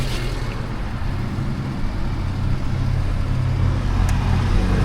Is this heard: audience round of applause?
no